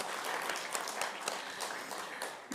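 An audience at an awards ceremony applauds steadily, a dense wash of many hands clapping throughout without pause.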